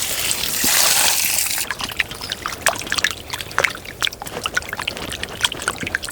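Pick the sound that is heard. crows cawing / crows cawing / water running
water running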